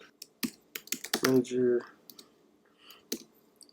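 Scattered clicks from a computer keyboard being typed on, sparse and fairly close, with a short burst of voice sounds partway through.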